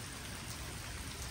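Heavy rain pours steadily in a cold California setting, a dense, even hiss of drops hitting surfaces with no breaks, close and constant throughout.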